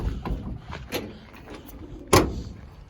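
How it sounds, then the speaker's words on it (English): A door on a smashed-up 1965 Chevrolet C10 short-bed pickup truck shuts once with a sharp, solid thunk that stands out above quiet background noise. "Doors shut actually pretty good for as smashed up as they are."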